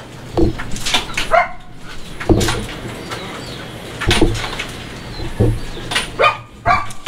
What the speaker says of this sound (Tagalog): Sunod natin itong mga alaga nating hayop, mga aso.